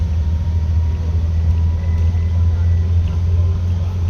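A former Stagecoach Dennis Trident double-decker bus with a Euro 2 engine idles in Manchester, giving a loud, steady, low rumbling drone heard close up with no change in pitch.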